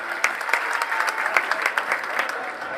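At an Ambedkar Jayanti gathering, an audience gives speaker Prashant Boddh a hearty round of applause, sustained dense clapping with crisp individual hand strikes close by, with faint crowd murmur underneath.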